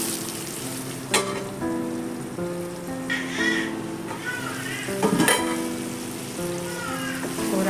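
Young brinjal pieces sizzle and crackle in a pan as they sauté for chutney, with a steady frying hiss, occasional louder pops and stirring, and tonal music playing faintly behind.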